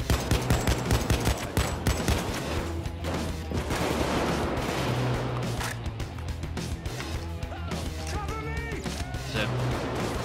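Rapid bursts of AK rifle fire in a video game, loud, dense automatic shots and impacts crowding over one another, with players talking over the gunfire.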